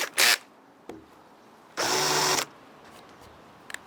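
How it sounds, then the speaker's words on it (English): A drill pre-countersinking holes in matai floorboards: a brief burst, then a second steady run of under a second, both close and loud, with quiet handling knocks between. "Pre-drill, and I will pre-countersink them as well."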